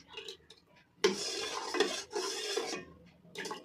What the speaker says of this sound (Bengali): একদম পুরো ভালোভাবে ম্যাশ করে নিচ্ছি।